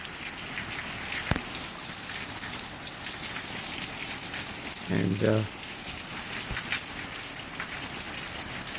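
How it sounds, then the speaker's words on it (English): Steady summer rain falls on a backyard on a mild July day, a constant even hiss of drops with a couple of sharp louder drips and a brief word spoken partway through. "Beautiful summer rain."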